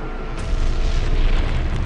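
Heavy bombs exploding over Berlin during a massive wartime Allied air raid, a loud, dense, low rumbling boom that swells and rolls on without a break.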